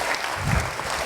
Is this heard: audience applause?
yes